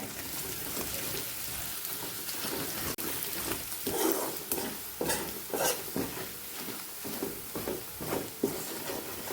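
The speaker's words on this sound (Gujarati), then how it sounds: "તો એમાં લસણવાળી ચટણી સતળાઈ ગઈ છે" Garlic chutney sautés in a pan over low gas, a steady soft sizzle overlaid with repeated scraping and stirring strokes of a spoon at an irregular rhythm, close and moderately loud.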